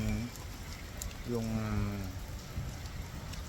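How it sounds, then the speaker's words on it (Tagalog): Steady rain patters and hisses throughout, with a voice speaking briefly over it partway through. "Ito na nga guys, umulan na."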